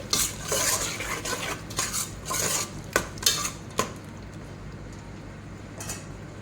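Metal spoon clatters and scrapes in a pot while ingredients fry for Kuwaiti-style mutton rice, with a few sharp knocks early on over a soft background sizzle that fades toward the end.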